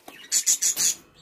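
Cockatiels in a home aviary, a quick run of four shrill, bright chirps in an even rhythm, fairly close and clear with no talk.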